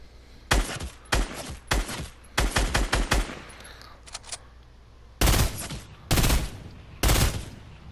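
Gunfire in the video game Fortnite during a shotgun battle: loud, sharp bursts of shots fire in quick clusters, about six volleys with short pauses between them, over a low steady game background.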